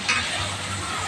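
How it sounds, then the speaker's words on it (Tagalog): Beefsteak sautéing in a hot pan gives a brief, steady broadband sizzle, close and fairly loud, with a faint stir at the start. "Kasi gisa pa naman ito."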